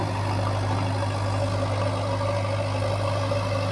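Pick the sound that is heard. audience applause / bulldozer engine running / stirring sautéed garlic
bulldozer engine running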